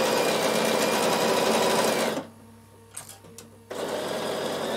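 A Bernina sewing machine stitches a dress seam, a loud steady whir that stops abruptly for about a second and a half, leaving faint clicks, then starts up again and runs on.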